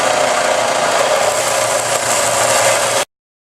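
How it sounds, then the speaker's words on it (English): A Harbor Freight 4x36 belt grinder runs steadily and loudly as it sands varnish off a Tractor Supply rounding hammer. The close, continuous abrasive whir stops abruptly. "4x36 belt grinder from Harbor Freight"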